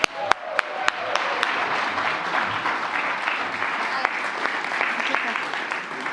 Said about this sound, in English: please join me in giving a huge round of applause to Alex and Stephen.